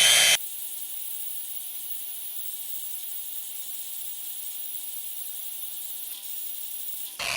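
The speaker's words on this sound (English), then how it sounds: "I'm just going to polish the little area up." A power tool polishes a small area of a steel weld test piece for a macro etch test, giving a continuous steady high whine that holds evenly for about seven seconds before cutting off.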